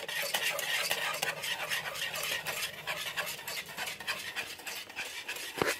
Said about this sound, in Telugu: విస్కర్ తీసుకొని కలుపుదాం.